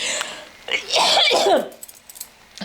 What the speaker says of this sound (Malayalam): ഭയങ്കര ചുമയാണ് എനിക്ക്